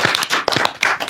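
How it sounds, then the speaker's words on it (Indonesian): A few people clap for three guests in an Indonesian radio podcast studio, a short run of close, distinct hand claps in uneven bursts with a brief gap midway. "Tepuk tangan dong buat mereka bertiga nih."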